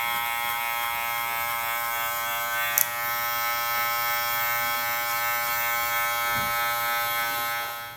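An electric hair trimmer cutting a fade, a steady close buzzing hum running without a break, with one brief sharp tick near the start.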